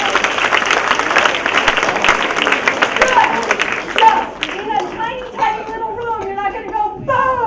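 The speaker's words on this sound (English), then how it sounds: "Give yourselves a round of applause." An audience at a Toastmasters convention claps and cheers for several seconds. The applause then thins out into scattered voices talking.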